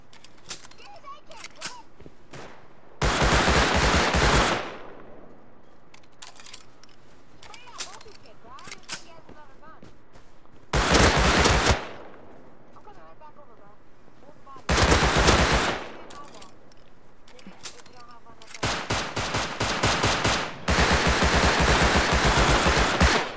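Bursts of automatic gunfire from the survival game Rust ring out loud and close in several long volleys, the last one stuttering in rapid repeated bursts, with quieter game noise and occasional voices in the gaps between.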